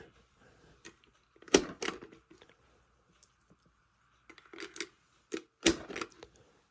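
Rounds pushed into Kel-Tec PMR30 magazines with a speed loader: a few sharp close plastic clicks and snaps in two brief clusters, separated by near silence.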